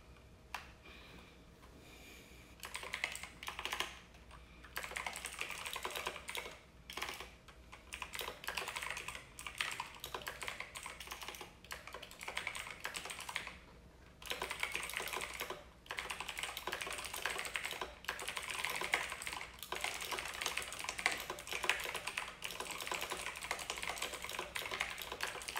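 Steady, close typing on a computer keyboard, keys clattering in uneven bursts with brief gaps over roughly twenty-five seconds, no speech over it.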